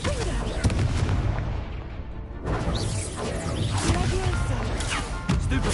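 A Confringo fire spell explosion in the video game Hogwarts Legacy, a loud booming blast that rolls into a dense, crashing roar with debris-like rumble filling the whole moment.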